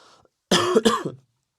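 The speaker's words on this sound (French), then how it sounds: "désolé si je tousse hein, dans ce podcast" A single close cough, two quick bursts in a row with a little throat clearing, then silence.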